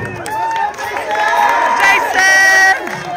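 Crowd cheering and shouting for a contestant at a high school graduation contest, a loud burst of voices rising and falling over a few seconds.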